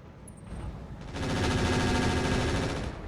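Mech weapons fire in the RogueTech battle game, a loud, continuous burst of rapid gunfire and explosions that swells after the first second and keeps roaring steadily to the end, with no voices.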